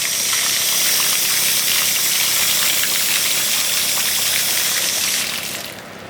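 Garden hose water gushes steadily through a screen, rinsing tomato seed pulp in a loud, continuous close-up rush that eases off slightly at the end.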